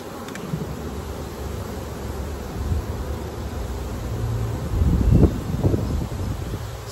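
Honeybees from a queenless colony buzz steadily at close range, a continuous droning hum with rustling that grows louder and busier toward the end.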